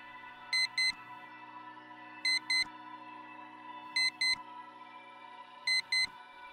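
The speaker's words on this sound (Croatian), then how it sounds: "Prvi alarm." A bedside alarm clock beeps in pairs of short, bright electronic tones, repeating four times at a steady interval over a constant low hum, clear and close with no voices.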